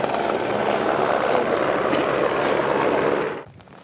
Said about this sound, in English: Helicopter comes in.